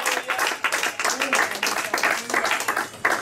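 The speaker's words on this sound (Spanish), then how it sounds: "Dale un aplauso fuerte" A church congregation applauding, with dense, steady clapping from many hands that carries on for the whole stretch, loud and close.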